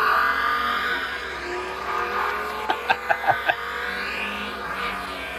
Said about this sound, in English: And then my favorite, the TTRS, the 5-cylinder turbo.